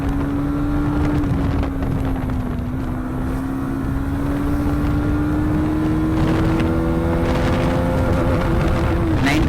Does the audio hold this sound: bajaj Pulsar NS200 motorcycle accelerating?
yes